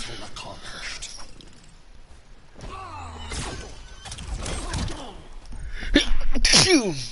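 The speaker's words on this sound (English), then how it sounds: "Every time I eat, I swear I sneeze shortly afterwards." A person sneezes shortly after eating during a Injustice 2 gaming session, a sharp burst breaking through game sounds and background noise near the end.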